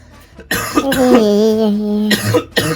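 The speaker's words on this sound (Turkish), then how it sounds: "Allah öksürük tuttu." A loud, close, drawn-out cough with a strained voiced quality, followed by a couple of shorter rough coughs.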